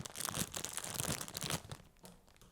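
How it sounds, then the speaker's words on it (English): Close, crinkly rustling of plastic with a few sharp snips and tearing sounds, busy at first and then quieter. "Don't forget these scissors. Cut this bag open."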